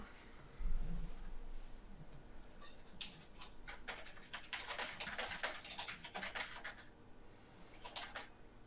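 A loud computer keyboard clatters in quick, irregular bursts of keystrokes close by, with a brief low thump near the start and faint room noise underneath.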